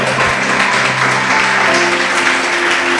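A church congregation applauds after a sermon, producing dense, loud clapping that runs continuously for a few seconds, mixed with sustained tones and a general crowd roar.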